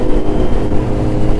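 A Kawasaki Z900 fitted with a Mivv carbon full exhaust system roars past loudly in a brief, rough, throbbing burst.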